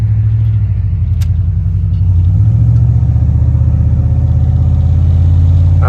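A 1991 Chevy Silverado pickup with high mileage and weak brakes pulls under load, its loud, close engine rumble rising in pitch through second gear.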